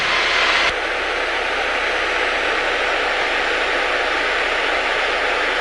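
A light aircraft's engine drones steadily during taxiing, a constant loud hum with a sustained tone heard from inside the cockpit, after a brief burst of louder noise at the start.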